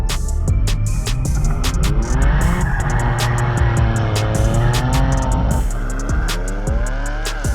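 BMW G80 M3 with a full Capristo exhaust driving hard: loud, continuous engine roar with rising and falling revs, tire squeal and sharp crackles, close and dominant throughout.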